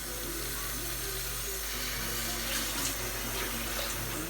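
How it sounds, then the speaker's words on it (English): Water poured into a pot of home-made Indian goat curry, a steady faint rushing pour heard alone with no talk. "So we added some water, just enough."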